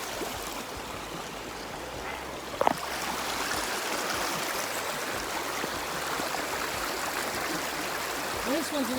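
Creek water rushes and babbles steadily while someone crosses it on a snowy May day, a constant broad flow close by with a brief splash or clatter partway through.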